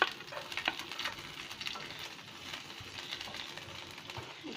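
Chopped garlic and ginger fry in hot oil for restaurant-style chilli chicken, giving a soft close sizzle with scattered stirring clicks and scrapes, fairly quiet and without talk.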